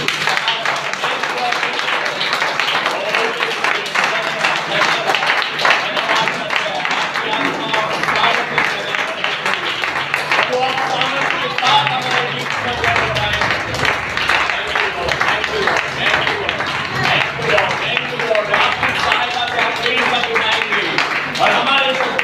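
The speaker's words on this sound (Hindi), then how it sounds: "तालियां बजाएंगे।" A church congregation claps and cheers in a large gathering, with loud, dense applause continuing throughout while a voice speaks over it.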